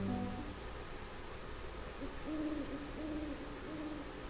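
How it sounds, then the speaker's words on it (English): Owls hoot at night in the video game Breath of Fire IV, several low, soft calls repeating over a steady hiss of ambient background noise. "And we hear owls."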